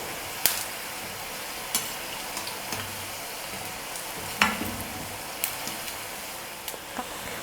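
Small snack pieces deep-fry in hot oil with a steady, soft sizzle broken by occasional sharp pops and crackles, fairly quiet and with no voices.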